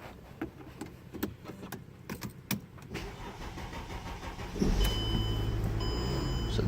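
A Mercedes-Benz BlueTEC diesel car starts with a new key: a few quiet clicks and rattles, then the engine catches near four and a half seconds and settles into a steady, close idle with a faint high whine.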